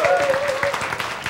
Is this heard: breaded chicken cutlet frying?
no